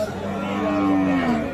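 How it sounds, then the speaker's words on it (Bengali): A young heifer calf at a cattle market gives one drawn-out, rising moo, loud and close, over a low murmur of the crowd. "বকনা, বকনা বাচ্চা।"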